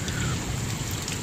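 Steady rain patters onto the surface of a 4000 gallon salt pond, a dense, even hiss of drops close by with no voices.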